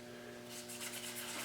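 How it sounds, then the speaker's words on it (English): A Scotch-Brite pad rubbed over a Triumph Spitfire cylinder surface with WD-40 on a 1968 Mk3 engine, giving a close, steady scrubbing rasp that strengthens after the first half-second and keeps a continuous rhythm. "So now I'm gonna just polish the surface."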